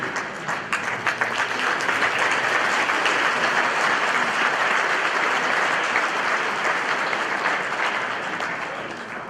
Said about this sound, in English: Let us give this young man another big round of applause.